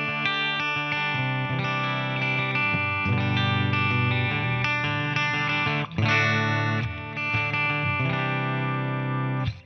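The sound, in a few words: Epiphone Les Paul electric guitar, clean tone through Marshall amp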